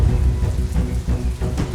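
Heavy rain pours steadily and loudly, with a dense wash of drops and low rumbling that fits distant thunder, and no voices are heard.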